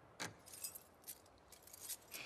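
Keys jangle in The Last of Us Part II video game, a quiet scatter of light metallic clinks and rattles in several small bursts, close by with no talking.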